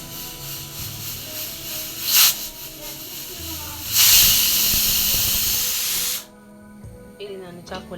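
A pressure cooker holding jackfruit seeds with salt and a little water vents steam, first in a short hiss and then in a longer, loud rushing hiss that cuts off abruptly, with faint voices in the background.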